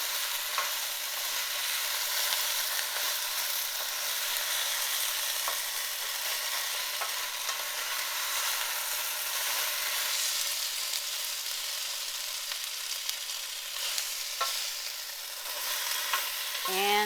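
Brussels sprouts sizzling in a glazed pan on lowered heat, a steady bright frying hiss running throughout with faint stirring scrapes near the end.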